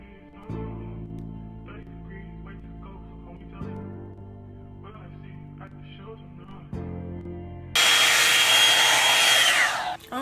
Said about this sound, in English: I'm gonna use my Revlon round brush blow dryer